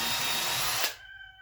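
A power drill boring a hole during a woodworking build, with a loud steady whir that cuts off abruptly near the end, leaving faint residual ringing.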